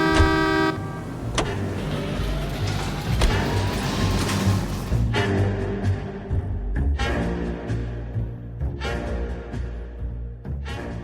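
A car drives in the video game L.A. Noire, its engine humming steadily for around eleven seconds among brief horn toots, scattered city traffic noise and a thick layer of background music, with no one talking.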